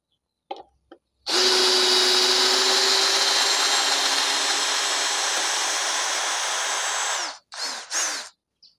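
A Dewalt DCD709 brushless cordless drill drives screws into wood, whirring steadily for about six seconds at close range, then stops, followed by a few short mechanical clicks and bursts.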